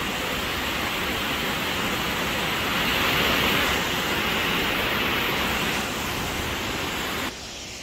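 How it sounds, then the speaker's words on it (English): A waterfall on the Appalachian Trail roars steadily in heavy rain, a dense, unbroken rush of water that stays loud and even throughout. "Finally, the waterfall."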